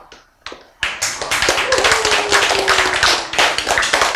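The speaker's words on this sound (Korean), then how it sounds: "왜 박수 쳐요?" A few sharp isolated claps, then an audience breaks into dense, lively clapping during a church sermon, with a brief voice heard faintly under the applause.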